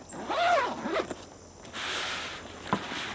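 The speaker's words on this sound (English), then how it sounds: "You can see there just how smooth these zippers are." Zippers on a CampingMoon admin pouch are drawn open and closed at close range, with smooth rising and falling zips followed by a longer pull and a small click, and no talking.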